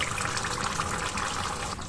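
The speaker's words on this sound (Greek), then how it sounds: "Θα προσθέσω μισό ποτήρι με 3/4 ζεστό νερό" Hot water is poured into a pot of lemon-oregano liver on the stove, a close, steady splashing gush that eases off slightly toward the end, heard without talk.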